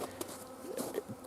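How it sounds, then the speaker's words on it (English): Honeybees clustered inside a winter hive in January, a faint, continuous buzzing hum with small fluctuations, heard alone without speech. "They get into a big cluster of bees and they vibrate their wings and things"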